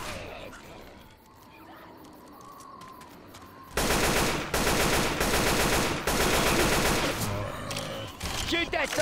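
Heavy gunfire erupts in Left 4 Dead 2 after a quieter stretch, dense rapid shots and blasts, including a shotgun, fired nonstop and loud over a zombie-horde game scene, with faint voices in the background early on.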